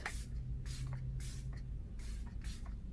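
Rare Beauty setting spray mists onto a face in five short, soft hissing bursts, evenly spaced and close, over a low steady background hum.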